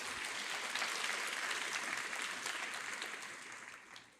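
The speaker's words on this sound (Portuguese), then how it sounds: "aplauda Jesus mais uma vez" A church congregation applauds in praise of Jesus, a dense wash of clapping that holds steady and then thins and fades toward the end, with no voices over it.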